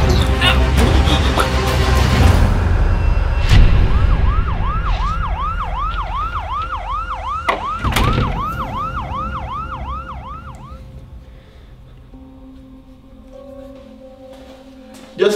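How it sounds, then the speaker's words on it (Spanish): An ambulance siren wails in a rapid repeating up-and-down pattern for several seconds in a staged comedy scene, loud and fairly near over street noise, then fades as the scene quiets. "¡Llama a una ambulancia!"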